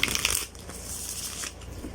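A glossy Llewellyn tarot card deck is shuffled close up, giving a rapid, slippery riffling and sliding of cards that rises in short bursts and continues steadily throughout with no voices.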